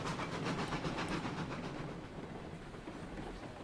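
A steam train rolls downhill along the rails in the video game RailRoads Online, giving a steady, loud rumbling clatter with hiss that eases slightly toward the end, with no voices.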